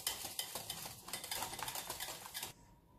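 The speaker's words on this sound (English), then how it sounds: "Whisk nicely until all combine." A whisk beats a no-bake vanilla cheesecake mixture in a bowl, making rapid, close rhythmic scraping and clicking strokes for about two and a half seconds before stopping, with no voices.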